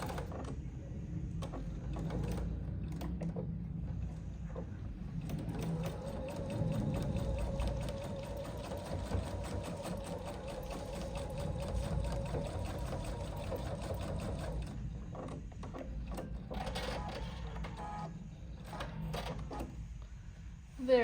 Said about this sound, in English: So here I am at the machine, and I'm just going to sew diagonally across this line that I just marked.